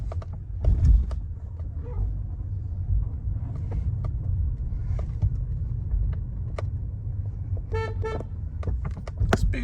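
A manual-transmission 2021 Kia Soul rolling over a speed bump, with a low steady road rumble, scattered clunks and knocks from the suspension, and a short horn-like tone near the end.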